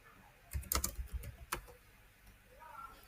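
Computer keyboard typing while writing code, a quick burst of clustered key clicks followed by a few isolated taps, close and fairly quiet, then near silence.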